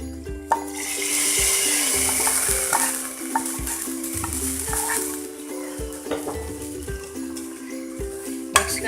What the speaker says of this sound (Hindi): अब हम इसमें ये प्याज फ्राई करी हुई भी डाल देते हैं।